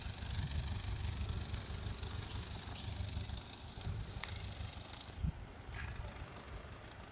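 A car engine idles and runs steadily during a driving lesson, a low continuous hum with a faint occasional click, no talking over it.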